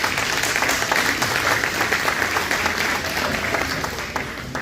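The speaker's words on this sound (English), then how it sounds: "give them a hand clap" An audience at a community club political event with pasta claps for candidates, a full burst of applause that holds steady and then tapers slightly toward the end.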